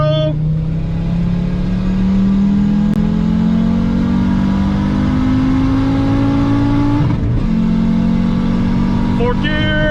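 An Audi UrS6 pulls hard at wide open throttle in third gear, its engine note climbing steadily in a loud, close rising drone before a brief shift dip near the end, with a voice audible under the engine.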